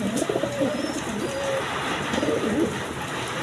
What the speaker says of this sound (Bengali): ডিম বাচ্চা করানো কবুতর, দেখেন